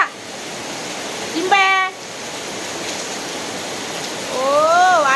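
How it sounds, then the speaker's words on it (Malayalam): Continuous rainfall hiss, broken by a short burst of a child's babbling and later another voice. "നല്ല മഴ മഴ സുഖം ഇടുന്ന നോക്കിയേ മഴ"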